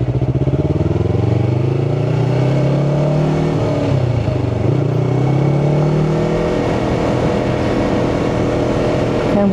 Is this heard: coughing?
no